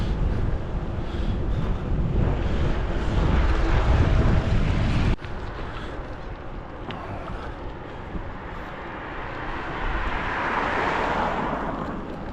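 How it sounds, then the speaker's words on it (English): Strong gusty wind buffets the microphone outdoors in winter, a loud continuous roar that drops abruptly midway and then swells again, with no talking. "Oh man, it is horribly windy."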